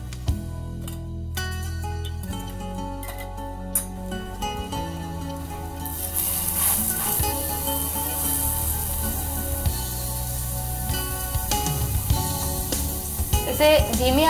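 Lotus stem kebabs fry gently in oil over a low flame, a faint sizzle sitting beneath background music and occasional clatter, growing slightly brighter and busier partway through.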